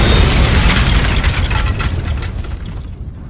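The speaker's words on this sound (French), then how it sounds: "Grenade!" A grenade blows up in one loud, close, booming burst that fills the whole clip and slowly fades out, with no talking.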